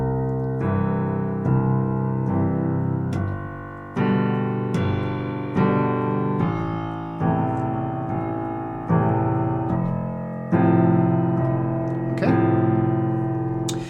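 Piano playing a left-hand accompaniment built on chord inversions, with full, resonant chords struck in a steady pulse about every second and left to ring, played solo without talk.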